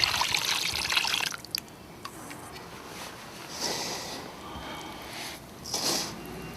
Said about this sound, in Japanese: 山土と川砂を混ぜたものに葉汁を入れて混ぜ合わせます。